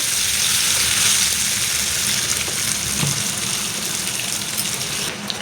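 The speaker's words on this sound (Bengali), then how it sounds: "পটলগুলোও ভালো করে ভেজে নেব বন্ধুরা।" Loud, steady hissing of pointed gourd frying in hot oil, a constant close sizzle with little variation.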